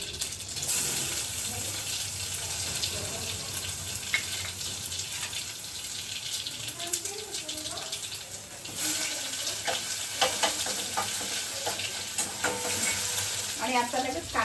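Mustard seeds and garlic sizzle steadily in hot oil for a homemade greens dish, with a continuous close crackle and occasional stirring clinks.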